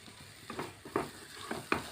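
Spatula scraping and stirring food for tomato rice in a hot pan, a few distinct scrapes over a soft sizzle, close by with no voices.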